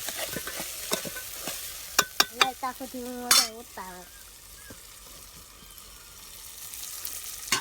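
Green pigeon peas stirred as they cook in oil, with a quiet sizzle under sharp clinking spoon-against-pan strokes in an uneven rhythm while a person talks in the middle.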